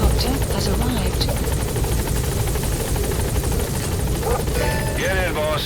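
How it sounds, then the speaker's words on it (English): A support helicopter touches down at a landing zone in Metal Gear Solid V, its loud rotor thump and engine whine continuous and close, with voices and radio chatter over it. "Support helicopter has arrived."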